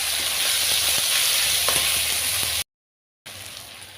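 Garlic and three chopped onions hiss and sizzle in a hot pan, a loud dense crackle with a few small pops, cut by a short silent gap before the frying resumes.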